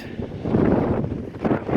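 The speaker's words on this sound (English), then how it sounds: "Well, it's windy, surprise, surprise" Steady wind buffeting the microphone, a broad rumbling rush that swells and dips throughout with no voices.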